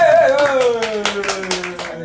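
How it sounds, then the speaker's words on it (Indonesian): Sparse hand clapping from a small group at a band introduction, a few scattered claps over a sustained tone and light chatter, fairly close and brief. "Tepuk tangannya dong"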